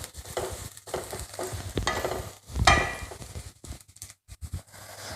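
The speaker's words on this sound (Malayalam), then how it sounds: "ഇതൊന്ന് നന്നായി ഈ പൊടിയൊക്കെ ഒന്ന് നന്നായി വേവട്ടെ സവാളയുമായി മിക്സായിട്ട്" Spice powders fry with onion in a pan for a Kerala-style beef curry, a steady close sizzle broken by scraping stirs of a spoon against the pan, with no talking over it.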